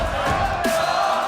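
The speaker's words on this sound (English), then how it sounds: "A lot of cheers in the crowd as everyone is hyped" A live crowd at the Brawl Stars World Finals 2025 esports arena cheers and roars after an opening game win, a loud, dense wash of voices with shouts over a continuous hum.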